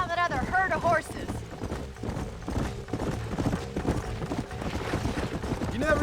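Herd of horses galloping in Red Dead Redemption 2, a steady rumble of clip-clopping hooves with an occasional whinny, mixed under music and a character's voice throughout.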